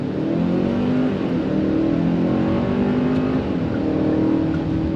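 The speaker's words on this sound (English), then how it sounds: "I'm gonna put us into sport mode here." A 2025 Hyundai Santa Cruz XRT accelerates hard in sport mode, its engine droning loud and steady from inside the cabin while the 8-speed dual-clutch gearbox shifts quickly, with no voices.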